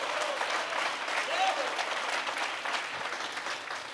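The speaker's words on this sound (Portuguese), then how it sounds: "se for para Ele, pode aplaudir" Sustained, dense applause from a large audience during a Portuguese-language sermon, a steady wash of clapping with some voices mixed in that lasts the full four seconds.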